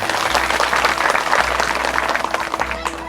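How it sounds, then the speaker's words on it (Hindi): Loud, sustained audience applause fills a village hall during an evening Shrimad Bhagavat Katha religious discourse, steady clapping from a large crowd throughout, with no speech. "बताइए ताली जोरदार।"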